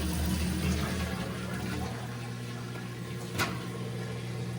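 A washing machine drain pump hums steadily as water drains out, a constant low drone with a faint watery wash that holds the same level throughout, with one brief soft knock near the end.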